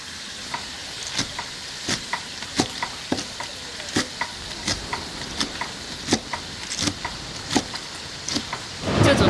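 Pickled chilies, both large ones and small millet chilies cut into short pieces, stir-fried in a wok with regular spatula scrapes and clanks over a steady sizzle, close and fairly loud, no talk.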